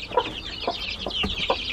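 Young Cochin chicks clucking and peeping, several short close calls in quick succession with no talking.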